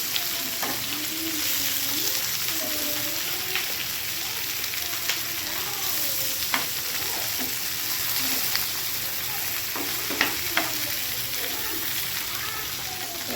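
Fish frying with onions in a pan, a steady dense sizzle lasting throughout with occasional sharp pops and scrapes, close and loud, while a voice talks quietly underneath.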